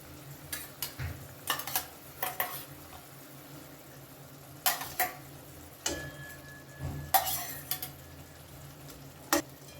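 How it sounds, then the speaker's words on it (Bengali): Fish pieces for doi katla, a Bengali yogurt fish curry, frying in cooked-down spice paste and oil in a pan; intermittent scraping stirs over a light sizzle, with no talking. "এখন এই কষানো মশলার মধ্যে আমি মাছের পিসগুলোকে দিয়ে দেব"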